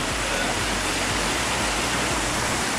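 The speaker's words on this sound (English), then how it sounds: "So this right here is a true budget backpacker shower." Water pours steadily from a natural outdoor shower at a backpacker spot in Sri Lanka, a loud, dense, continuous rushing splash heard up close with no talk.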